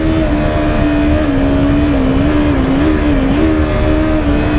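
A Yamaha R25 motorcycle engine revving high near 7000 rpm, a loud continuous whine with the pitch wavering slightly as the throttle varies, heard close up from the bike.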